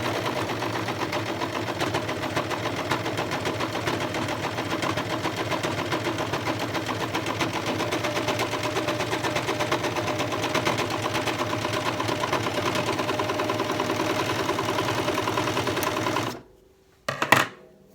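An overlock serger with its knife disabled sews a flatlock stitch through folded fabric, a fast continuous mechanical whirring and ticking that runs steadily, then stops abruptly near the end, followed by a brief clunk.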